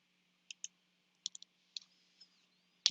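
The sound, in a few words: mouse click on sign in button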